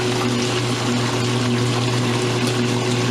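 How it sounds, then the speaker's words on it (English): A Roper washing machine drains and spins, churning steadily with a constant low motor hum and rushing water, a continuous mechanical drone throughout. "It's spinning faster than it was before,"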